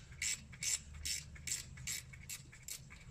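Ratcheting clicks while a fastener on the ABS cable of a 2009 Lexus RX350 is worked loose during a rear strut and rotor change, about eight regular bursts, close and moderately quiet.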